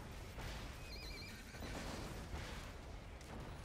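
Horses in Borderlands 2 let out a couple of shrill whinnies over dense, noisy game ambience, fairly quiet and partly masked by the busy background.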